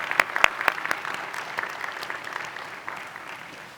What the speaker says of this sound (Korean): 우리 찬양팀에게 한번 우리 사랑과 격려의 박수 한번 해주시면 좋겠습니다